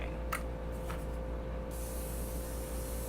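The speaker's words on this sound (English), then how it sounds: "set my face with my Morphe setting spray" A few short, soft hissing bursts of Morphe makeup setting spray on a face near the start, over a steady low background hum.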